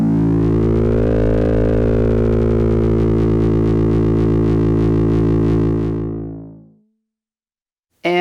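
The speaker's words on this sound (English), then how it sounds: "which controls the degree to which the modulator oscillator modulates the carrier oscillator" A loud, buzzy frequency-modulation tone from a Korg volca modular synthesizer with a dense, metallic harmonic texture, sweeping slightly in pitch, sustained for about six seconds before fading out.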